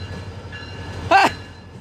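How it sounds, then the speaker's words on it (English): A GP38-3 diesel locomotive rumbles low and steady with a mechanical drone, nearby, broken by a brief loud burst partway through. "Look at this engine. 2050 GP38-3. Jeez, that's loud."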